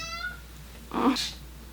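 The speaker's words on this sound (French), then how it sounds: "Je garde le chat de mon ami." A friend's cat being looked after during a home yoga session gives a single short meow near the end, close and clear over a quiet room.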